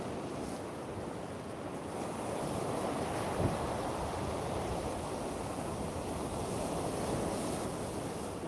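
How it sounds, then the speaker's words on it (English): Ocean waves crash and roar steadily at Coney Island during a wind storm, a broad continuous wash of surf mixed with gusting wind buffeting the microphone. "Aren't the waves crashing peaceful?"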